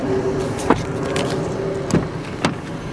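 Electric windows on a Renault Scenic 1.3 TCe Signature MPV with a black leather interior run with a steady motor whine inside the cabin, broken by a few short clunks as the glass stops, close and moderately loud.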